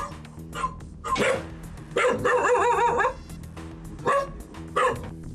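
A frightened, long-neglected dog living in a dusty home barks repeatedly in a deep voice, several loud, near barks and whines spaced across the clip with a faint background voice.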